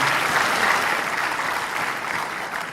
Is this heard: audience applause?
yes